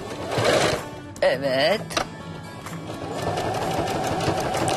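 A domestic sewing machine stitching a seam in contrasting thread, a steady mechanical whirring rhythm that builds after someone speaks briefly at the start.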